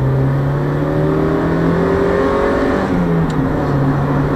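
Close, loud Mazda MX5 engine revving with smooth rising and falling pitch sweeps, the note dipping briefly before climbing again, with no speech over it.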